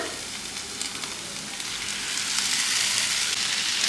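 Vegetables for pav bhaji drop into well-fried homemade spices and sizzle loudly and steadily in the pan, the crackling hiss building and staying dense throughout.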